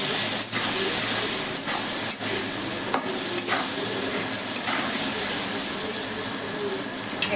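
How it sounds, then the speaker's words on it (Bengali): Potatoes frying in oil with salt and turmeric for a Bengali mirka fish curry, a constant loud sizzle and hiss broken by several stirring scrapes and knocks. "লবণ হলুদ দিয়ে ভালো করে লাল লাল করে ভেজে নেব।"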